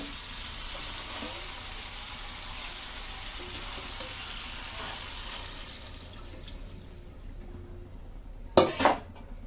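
Water poured into a pan of fried spices for Kashmiri dhokar curry, a steady broadband rush with a sharp metallic clatter of utensils near the end.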